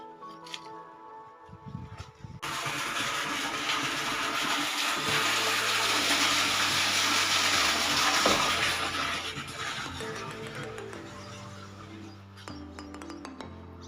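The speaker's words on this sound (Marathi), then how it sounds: "जवळपास आता मी प्रत्येक झाडाला पाणी टाकणार आहे." Running water splashes steadily onto garden plants during summer watering, a loud continuous gush with some clinks, rising after a quiet start and easing toward the end.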